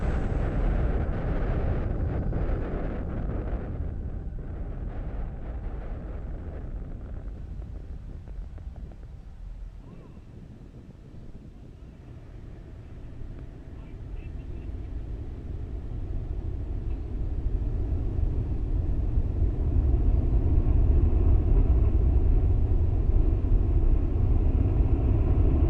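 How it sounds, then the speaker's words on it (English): A SpaceX Falcon 9 carrying 53 Starlink satellites lifts off from LC-39A with a continuous deep roar and wind buffeting that dips slightly midway, then swells louder and fuller toward the end, heard from a distance without voices. "Falcon 9 has now successfully lifted off from Nominal power and LC-39A"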